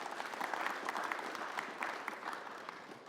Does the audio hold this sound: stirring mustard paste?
no